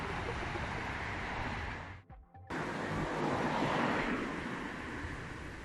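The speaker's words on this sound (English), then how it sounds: "the air is good, a nice wind" Wind blows along the Dambovita river in Bucharest, buffeting the microphone in a steady broadband rush that drops away for a moment before returning.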